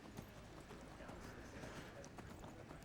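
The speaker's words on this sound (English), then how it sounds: "If you just get on a horse and just run up it, it'll just kind of go flying up the side because Skyrim horses" A horse gallops up a steep mountainside in Skyrim, its hooves clip-clopping in a quick steady rhythm under a continuous wash of game noise, with a voice talking over it.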